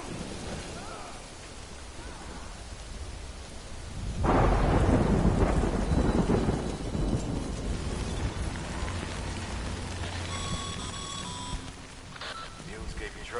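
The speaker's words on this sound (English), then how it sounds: "Good thing it was raining." Rain and rolling thunder in the video game Death Stranding, a loud thunder crash breaking in around four seconds and rumbling on over steady rainfall, with some game tones near the end.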